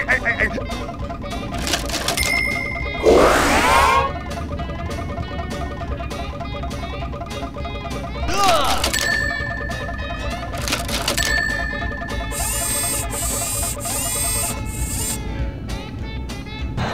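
Bright bell chimes ring out in SpongeBob SquarePants (2003 game) amid tinkling pickup jingles and game music, with a couple of louder ringing flourishes over a busy background.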